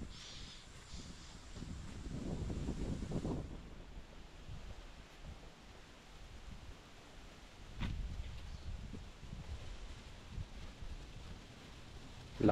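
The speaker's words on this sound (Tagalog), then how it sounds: "Lakas ng hangin dito, lamig." Strong, cold wind blows outdoors on a Bicol trip, rumbling in gusts across the microphone as a faint, steady whoosh with a couple of louder swells.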